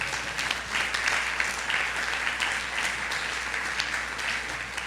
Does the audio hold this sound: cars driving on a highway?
no